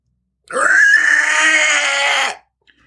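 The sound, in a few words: unearthly scream of a possessed woman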